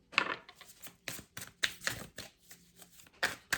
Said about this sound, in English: A little bit of shuffling in camera for those of you who chose deck number 2.